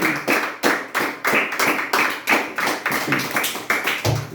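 A church congregation claps in unison during a worship service, a steady rhythmic beat of about two claps per second, loud and close with no talking over it.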